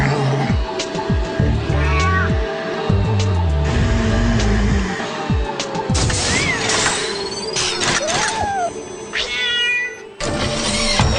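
A cat meows repeatedly and insistently in a home amid clattering and mechanical noises, with several distinct rising and falling cries close by.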